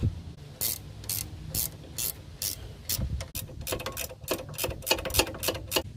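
A hand ratchet clicks through repeated short bursts while tightening the sway bar link nuts on a Lexus RX300. The sharp pawl ticks are close and grow quicker and denser toward the end.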